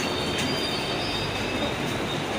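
A Mumbai suburban local train rumbles past at close range with a dense, steady roar and thin high wheel squeals ringing over it.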